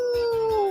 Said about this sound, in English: The sound of the dog.